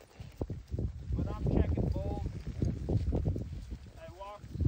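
Horse hooves clip-clop at a walking pace while riding through cattle on a ranch, a steady rhythmic clatter close by, with someone talking over it throughout.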